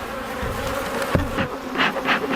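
Agitated honeybees swarming around an opened hive under smoke, a dense steady buzzing close by with individual bees swelling louder as they pass near, no talk.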